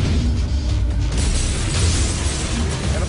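A movie-ad explosion booms as a sustained, loud, noisy rumble with crackling debris spread across the whole stretch, dense and continuous without a quiet gap.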